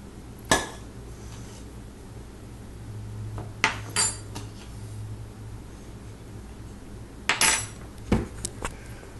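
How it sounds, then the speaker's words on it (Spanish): Dry ingredients are mixed in a bowl with a utensil, giving scattered metallic clinks and scrapes at irregular intervals over a quiet room background. "Mezcla los ingredientes secos en un tazón."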